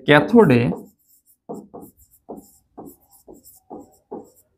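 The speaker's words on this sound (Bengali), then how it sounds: "তাহলে আমি এখানে লিখি যে" Marker or chalk writing on a board during a chemistry lecture, heard as a series of short, close scratchy strokes in a steady rhythm, following a brief burst of a man's speech at the start.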